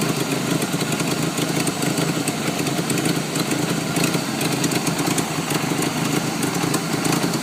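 Engine of a 1989-1992 Ford Ranger running steadily and loudly up close, held at a sustained high rev during snap throttle tests, continuous and dense with no talking.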